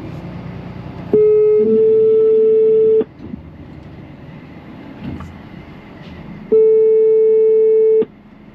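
Telephone ringback tone heard while placing a call: two long, steady electronic beeps, each about two seconds, separated by a pause of several seconds, loud and clear over faint room noise with no talking.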